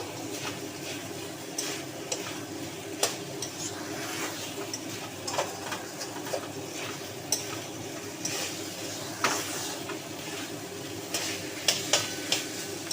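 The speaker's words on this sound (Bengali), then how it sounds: "আর একটু ভালো করে কষাবো" Watermelon rind curry sautéing in oil in a pan, a continuous sizzle under repeated scraping and tapping strokes from a stirring spatula, close up with no talking.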